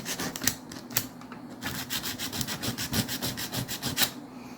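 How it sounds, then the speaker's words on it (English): Sandpaper lightly rubs and cleans a metal part from the power torque drive of a Tyco Alco C430 model locomotive, making quick repeated scratchy strokes close by with no voices. "we're going to take our sandpaper and just give it a light"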